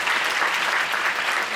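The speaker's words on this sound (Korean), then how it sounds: "박수 쳐주세요" Steady applause from an audience at a church gathering, dense and sustained clapping filling the space without pause.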